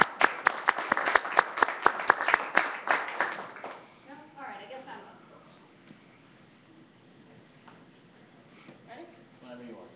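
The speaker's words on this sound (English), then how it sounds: "Can we have a round of applause for the candidates?" Students at a student association general assembly give the candidates a short round of applause, brisk clapping for about three seconds that fades into quiet room murmur and a voice speaking.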